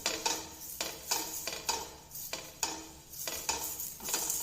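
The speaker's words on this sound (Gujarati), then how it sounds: "હવે આપણે અડધું નંગ જેટલું બટેકું મેં તેલવાળું કર્યું છે, એને આ રીતે ઘસી લઈશું." Half a potato coated in oil is rubbed across a hot dosa tawa, giving repeated scraping, clinking strokes in an uneven rhythm, close and fairly quiet, with no voices.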